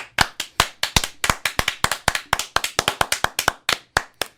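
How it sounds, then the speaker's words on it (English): A single person's hands clapping in a slow, steady rhythm, about a dozen crisp, close claps evenly spaced and heard alone with no talk over them. "Slow clap."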